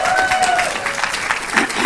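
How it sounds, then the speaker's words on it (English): Audience applause at an Irish-medium teacher education commencement ceremony, a steady dense patter of clapping with light crowd noise, held at an even level for the short span. "I know you'll want to cheer Carl even though he's not here"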